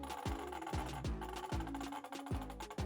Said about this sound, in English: That's the sound of a Basha